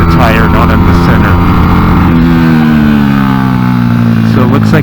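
A Honda NSF100 fitted with a salvaged XR100 engine is revved hard toward a roughly 10,000 RPM redline, its loud, close buzzing drone climbing and shifting in pitch.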